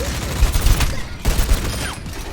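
Bursts of rapid gunfire from a shooter video game, two loud clusters of shots separated by a brief lull, with a voice talking faintly underneath.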